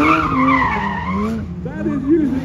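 Race car at a Brands Hatch GT demo run revving hard with sweeping, wailing engine pitch and skidding tyres, loud and close, with excited voices over it.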